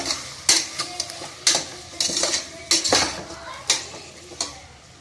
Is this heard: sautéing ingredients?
yes